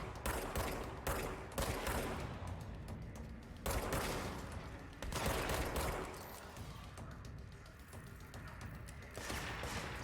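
Gunfire in the video game Control comes in repeated bursts of loud, close shots and rapid volleys, with game effects and ambience between them.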